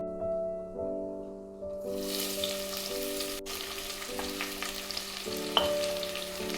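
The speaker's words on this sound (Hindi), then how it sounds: "प्याज को गोल्डन कलर आने तक फ्राई कर लेंगे" Sliced medium onions frying in a pan for a jackfruit curry, a steady close sizzle with stirring, while sustained musical tones play underneath throughout.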